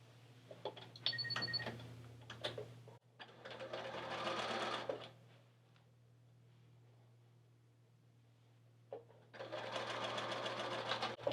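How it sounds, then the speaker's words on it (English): Domestic sewing machine stitching pieced quilt star-block triangles along a bias edge, running in two loud bursts separated by a quieter pause with a steady motor hum throughout; no talking. "I'm going to go ahead and sew this"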